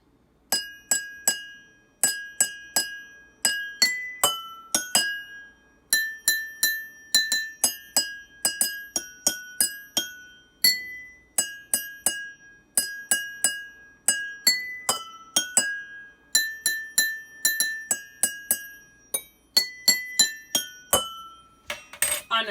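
Drinking glasses filled with water and struck as a homemade xylophone ring out the Jingle Bells melody, a long series of clear, bright glassy tones in steady tune rhythm, close and alone without voices.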